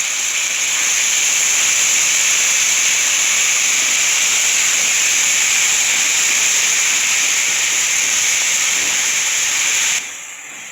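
Chopped tomatoes and coriander sautéing in a pan for a coconut-milk kurma, giving a steady, fairly loud sizzling hiss with no talk, cutting off and quieting near the end.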